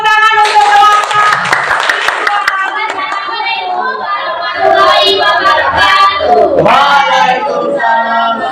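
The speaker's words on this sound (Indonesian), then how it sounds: "beri tepuk tangan untuk kelompok." Students at a classroom group presentation clap for a group, a burst of hand clapping early on that gives way to loud young voices talking over and after it.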